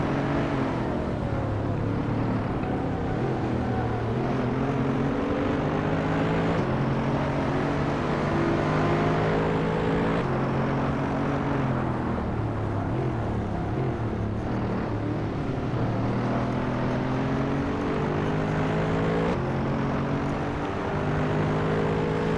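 Race cars in a Hot Wheels video game drone past in a dense, unbroken engine whine whose pitch keeps sliding up and down as they accelerate and jostle through corners.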